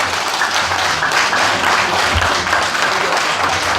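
Sustained applause fills a hall at the APC national convention in New York in 2015, with dense, even clapping from a large audience that stays loud and continuous throughout.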